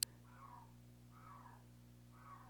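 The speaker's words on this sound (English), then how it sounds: "Do you hear my cat caterwauling right now?" A cat yowls three times in drawn-out, wavering cries, moderately close, over a steady low electrical hum.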